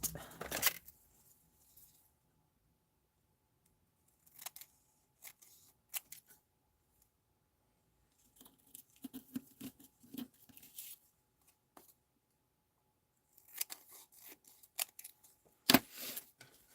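Scissors cut through vellum card in several short bursts of snipping and crisp paper rustling up close, with quiet pauses between the clusters.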